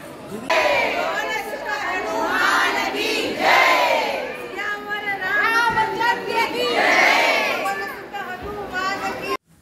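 A group of women cheer loudly in a temple courtyard. Repeated surging bursts of high shouting and festive cries sound close and strong, with crowd chatter between them.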